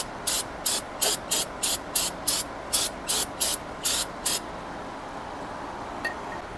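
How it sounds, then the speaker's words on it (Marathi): Brake parts cleaner sprayed onto a car's brakes to loosen bolts: about eleven sharp, close hissing spray bursts in a steady rhythm, then quiet. "पहिला आपण सगळे हे बोल्ट वगैरे लूज करण्यासाठी ब्रेक पार्ट्स क्लीनर"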